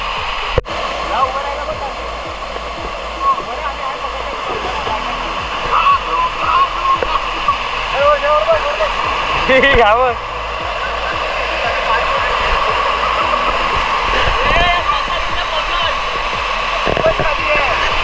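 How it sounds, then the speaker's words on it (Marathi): The Talegaon waterfall in Mangaon pours with strong force in the monsoon, giving a loud, steady roar of rushing water that lasts throughout, with faint voices now and then underneath. "फोर्स बघा पाण्याला मजबूत फोर्स आहे"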